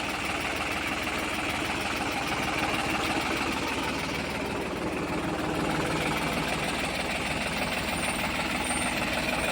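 A New Holland 3630 tractor's diesel engine runs in a continuous, loud, rough chugging drone with a rapid knocking rattle, steady from start to finish and heard up close.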